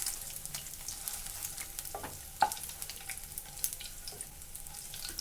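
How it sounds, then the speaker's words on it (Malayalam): Paneer shallow fries in oil in a pan, a low continuous sizzle with scattered light crackles and an occasional utensil tap. "ഇപ്പോൾ നമ്മുടെ പനീർ ഷാലോ ഫ്രൈ ആയിട്ടുണ്ട്"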